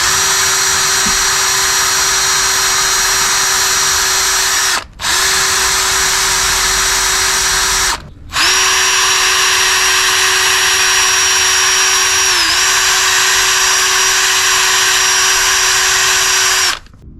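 A power tool whines steadily and loudly while stripping red paint from a brake caliper carrier on a 1998/1999 BMW, running in three long bursts with two brief stops and no talk.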